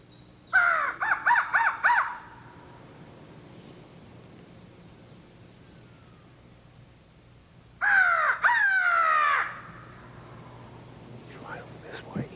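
A man imitates a crow call with his natural voice, giving a quick burst of about five harsh caws, then after a quiet pause a second run of several caws, loud and close, with no talk.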